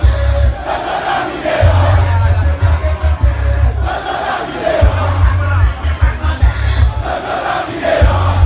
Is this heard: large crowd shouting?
yes